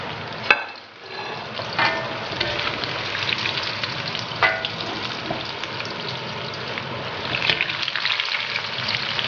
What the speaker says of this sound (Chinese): 猪肉片全部炸好了，我们来进行第二次复炸，这样才会脆